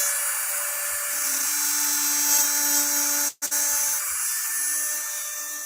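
A StewMac inlay routing tool cuts a guitar inlay with a steady, high-pitched whine like a dentist's drill. The whine runs nearly unbroken, cutting out for a brief moment partway through.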